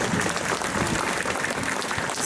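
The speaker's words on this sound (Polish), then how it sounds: "prosimy o brawa dla nich" Sustained audience applause at the opening of the St. Dominic's Fair in Gdańsk, a dense, steady wash of clapping hands filling the space for the whole stretch with no voices above it.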